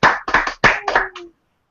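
Several quick bursts of clapping with short gaps between them, close and crisp, from a small group celebrating goal-weight milestones, ending abruptly in silence with no cheering voices evident.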